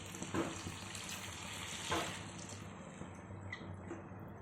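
A glass of tamarind juice pours and splashes into a simmering ivy gourd curry, a soft gurgling rush with two fuller surges, over a faint background sizzle.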